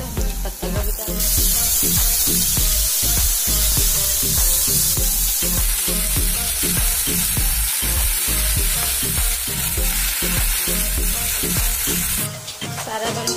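Onion, garlic and green chilli fry loudly in a pan for a cabbage dish, a continuous close sizzle with repeated stirring scrapes, shifting near the end as more ingredients go in.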